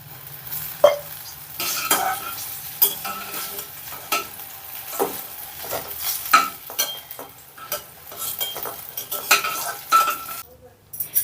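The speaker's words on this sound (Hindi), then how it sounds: "एबे बैगणटा भलसे फ्राए हो जाइए एबे सब भजा बाहर कर नवा।" Eggplant frying in a pan while being stirred, with repeated utensil scrapes and taps against the pan over a constant sizzle, close and fairly loud, no voices.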